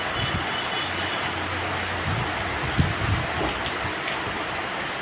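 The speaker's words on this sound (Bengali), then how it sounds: "ওখানে এত সুন্দর বৃষ্টি হইতেছে" Steady, even rain hiss fills the whole stretch, with a faint low rumble underneath and no voices.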